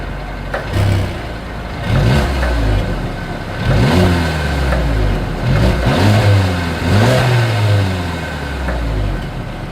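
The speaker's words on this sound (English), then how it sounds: "As always, here is that exhaust clip." A 2022 Mercedes-Benz CLA 250 with dual exhaust revs repeatedly from idle, each blip rising sharply in pitch and falling back, loud and close with no talk.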